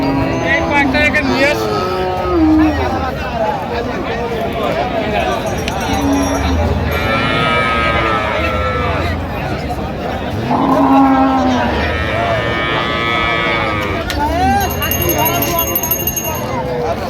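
Cows and calves moo repeatedly at the Raniganj cattle market, several long, loud lowing calls rising over a busy crowd of people talking and bargaining nearby.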